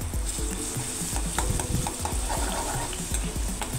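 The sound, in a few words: garlic frying in hot oil for tempering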